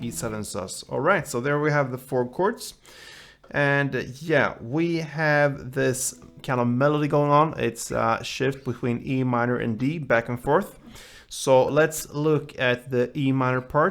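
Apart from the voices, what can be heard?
No everyday noises stand out.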